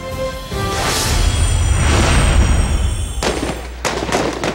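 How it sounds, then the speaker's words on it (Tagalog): Gunfire from urban fighting in Marawi City: loud, sustained blasts and reports that merge into a continuous roar, with sharper bursts of shots near the end. "Sa gitna ng mga putukan"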